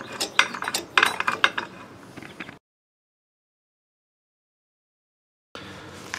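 A ratchet spins lug nuts down onto a travel trailer tire, with rapid clicking pawl bursts up close, then a long silent gap before more faint handling noise returns.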